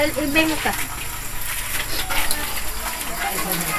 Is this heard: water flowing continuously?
yes